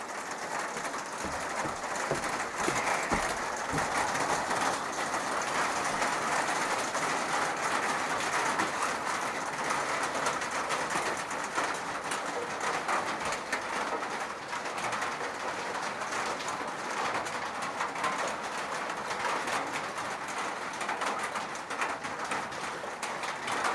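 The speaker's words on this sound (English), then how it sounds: "I love that sound on the roof, but listen to it. There's some heavy, heavy raindrops." Heavy rain drums steadily on the roof of an off-grid cabin, a dense, continuous wash of large drops that stays loud and even throughout, with no talk.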